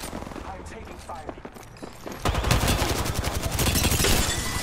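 Rapid bursts of automatic gunfire in the battle-royale video game Apex Legends, a dense fusillade that swells loud and close after a quieter stretch, with brief game voice lines mixed in.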